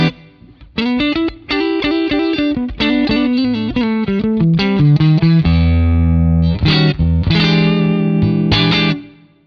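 A clean electric guitar tone through plate reverb plays a melodic phrase of picked single notes and sustained chords, bright and close, with a lingering reverberant tail.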